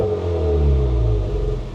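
A Honda Civic Type R with an upgraded exhaust revs close by, a loud low rumble that rises briefly then settles and cuts off.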